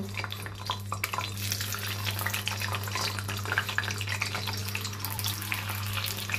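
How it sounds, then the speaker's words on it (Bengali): Eggs dropped one at a time into hot oil for a Bengali egg and potato dish, giving a steady, dense sizzle and crackle throughout, close and fairly loud with no talking. "তেলটা গরম হয়ে গেছে, এখন আমি ডিমগুলো একটা একটা করে দিয়ে দেব।"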